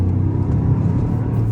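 A 2024 second-generation Toyota GR Yaris engine drones steadily with a low, even rumble while the car is driven gently into a bend on a wet road, close and continuous.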